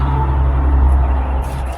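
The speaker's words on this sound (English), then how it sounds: "Sorry for all the traffic noise, everybody." Road traffic rumbling nearby, a heavy low hum of passing vehicles with a brief higher hiss toward the end, loud and unbroken.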